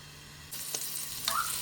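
After a short quiet moment, ghee suddenly starts sizzling loudly on a hot tawa and keeps crackling steadily, with a faint scrape partway through.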